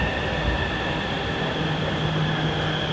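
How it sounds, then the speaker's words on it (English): A Bangkok train rolls in with a steady low rumble and faint high whine and squeal tones, continuous and fairly close, no talking. "Here's our train."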